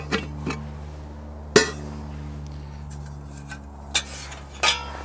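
A metal saucepan and frying pan clank and clink a few times outdoors in the woods, sharp isolated knocks of pans being handled, with quiet pauses between.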